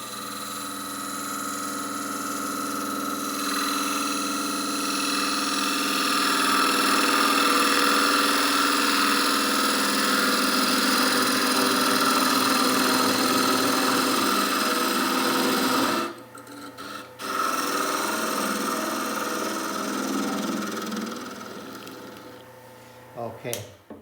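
A small bowl spinning on a wood lathe while a gouge cuts it, giving a continuous rough scraping rasp over the motor's steady hum; the cutting drops out briefly partway through, then resumes before the lathe winds down.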